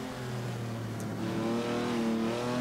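Ferrari 1962 250 GTO engine in the Assetto Corsa racing game, a steady mid-pitched drone that dips briefly and then rises again as the car changes gear, sounding continuous and fairly close.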